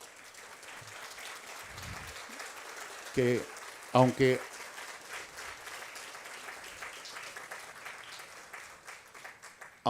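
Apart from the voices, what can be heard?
audience applause at a forum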